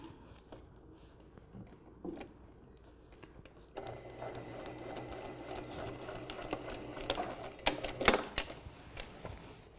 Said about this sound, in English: You just go back in and just take a few stitches closer to that edge, because it really needs to be right next to the placket.